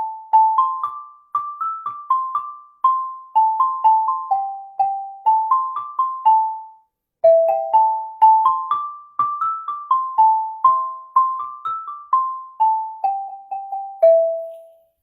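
Pentatonic improvisation in an E mode played as clear bell-like pitched tones, steady stepwise phrases with a short pause midway, bright and close, no voices.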